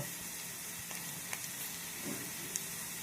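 Cumin, fennel and asafoetida sizzling in hot oil, a soft continuous hiss with a few faint clicks and pops, steady and fairly quiet throughout with no talking.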